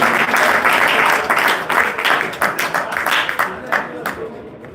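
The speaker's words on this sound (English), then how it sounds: "Let's give him a round of applause, gentlemen." A crowd applauds loudly with dense, steady clapping that gradually thins and fades toward the end.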